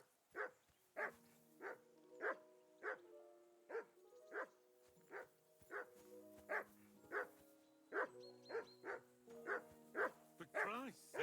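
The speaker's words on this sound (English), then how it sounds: "Call off that damn dog before he wolfs down the last of our mates" In Kingdom Come Deliverance II, the dog Mutt barks in a rapid, repeated series of sharp woofs, loud and close, with a few higher yips toward the end.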